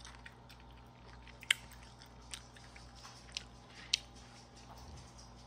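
Someone bites and chews sausage close up, with a few sharp crunchy bites spaced among quiet, moist chewing over a low steady hum.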